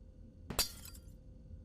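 Glass breaks in the video game Garten of Banban, one sudden crisp shatter with a brief tinkling tail amid quiet background hum.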